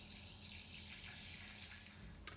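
Vinegar for a beetroot and elderberry chutney pours into a pan in a soft, steady, faint trickle, ending with a small splash or clink.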